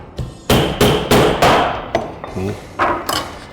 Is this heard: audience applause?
no